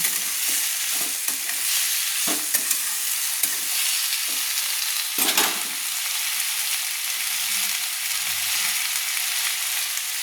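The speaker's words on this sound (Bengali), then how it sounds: "দিয়ে ভালো করে নেড়ে নিচ্ছি।" Bitter gourd, potato and chopped tomato are stirred in a hot pan, giving a continuous close sizzle broken by several scraping strokes of a spatula, with no talking.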